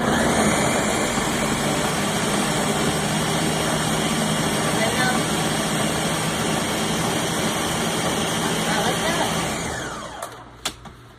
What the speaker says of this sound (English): Okay, tomatoes in the blender.